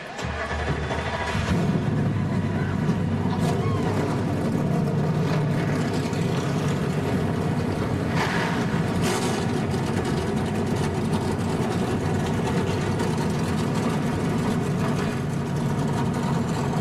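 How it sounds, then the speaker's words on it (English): NASCAR Camping World Truck Series engines rumble at idle before the 2014 race at Iowa, forming a dense, steady, loud roar from many trucks that persists throughout without speech. "The engines have come to life as we get closer to the start of this one"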